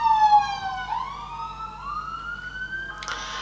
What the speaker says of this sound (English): we're not going to pay attention to the sirens right now